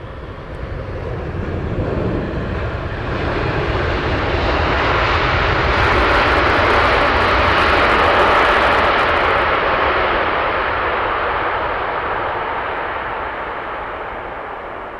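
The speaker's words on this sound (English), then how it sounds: "Qatar in, very nice landing." A Qatar airliner lands at Heathrow Airport, a loud continuous jet roar swelling as it passes close overhead and then slowly fading, with no voices.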